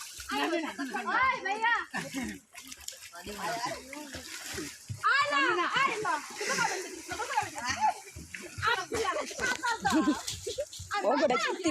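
Water splashes repeatedly as a child swims, with children's voices talking and calling throughout, close and lively over continuous churning water.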